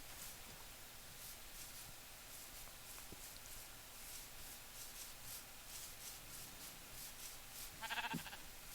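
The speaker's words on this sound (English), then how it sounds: "More sheep in the same clustered spawn." A sheep in Minecraft gives a single short bleat near the end, faint against a quiet, hissy background.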